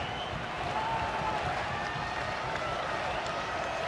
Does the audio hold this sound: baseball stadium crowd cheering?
yes